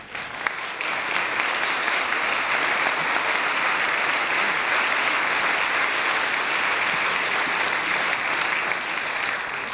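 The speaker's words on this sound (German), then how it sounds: "Das verdient keinen Applaus, ist ein fürchterliches Geschäft." Audience applause at a lecture on global power relations, a sustained, even roar of many hands clapping for about ten seconds with no talk over it.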